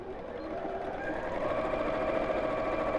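A sewing machine runs in a steady, continuous whir, stitching straight across the bottom of a box bag, with an even hum and slight rhythmic mechanical texture throughout.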